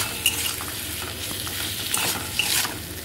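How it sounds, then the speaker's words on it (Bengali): Chopped capsicum and onion sizzle loudly with salt in a hot pan while a spoon stirs them, bringing a few scraping, clinking strokes over a constant crackling fry. "নুন দিয়ে আমি 2 মিনিট মতন ক্যাপসিকাম আর পেঁয়াজটাকে ভেজে নেব।"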